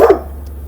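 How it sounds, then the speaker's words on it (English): A single short, loud dog bark rings out close by indoors, then fades into quiet room tone. "sorry for the dog barking."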